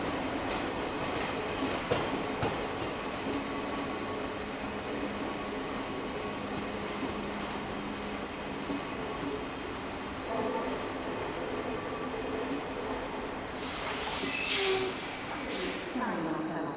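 A Budapest to Prague passenger train idles and rolls at a station, a steady low rumble of rail noise with a burst of brighter wheel squeal and hiss near the end, heard from close by.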